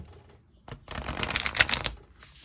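A brief rapid riffle of large oracle cards being shuffled, a dense flurry of papery flicks lasting about a second after a single tap.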